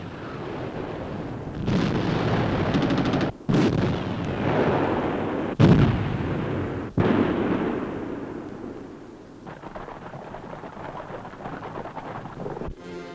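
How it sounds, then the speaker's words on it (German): Artillery fire during a wartime advance along Lake Mjøsa toward Hamar in the 1940 invasion of Norway, heard as loud, sustained booming rumble with several sharp blasts cutting through a continuous roar. "Artillerie bricht feindlichen Widerstand auf dem Vormarsch am Jösensee entlang auf Hamar."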